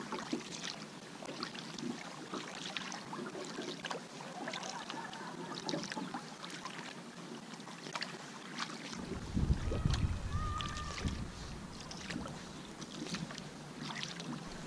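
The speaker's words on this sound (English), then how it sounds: "I'm paddling one of my Firestar Badarka style kayaks, and I'm using my Aleut paddle." Firestar Baidarka-style kayak paddled with an Aleut paddle along a channel past the Maine Botanic Gardens, soft rhythmic water swishes and dips under wind noise, with a gentle splash midway.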